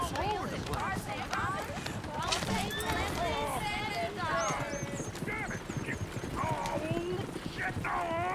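Horses clip-clopping and galloping in a video game, likely around a stagecoach, with rapid hoof clatter mixed into a busy scene while people talk over it.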